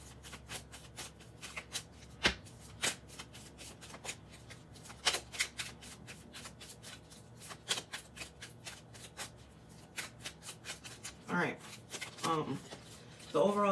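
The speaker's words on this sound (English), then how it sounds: "Just gonna reshuffle these real quick." Tarot cards shuffled by hand in a series of crisp riffling bursts and sharp flicks, close and fairly quiet, repeating steadily with brief pauses and a few soft handling knocks near the end.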